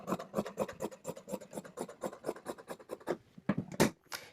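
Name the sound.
cutting folded cloth to even the edge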